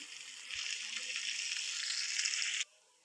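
Onion and capsicum fry in hot oil in a pan, a steady broadband sizzle holding for over two seconds and then cutting off abruptly, with no voices over it.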